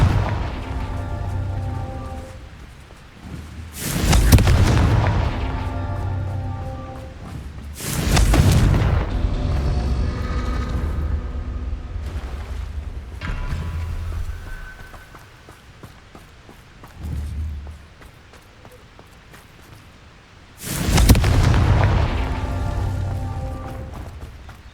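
Confringo explosive spell blasts in the Hogwarts Legacy video game, several loud booming bursts spaced a few seconds apart, each decaying into a rumbling tail over a low continuous background.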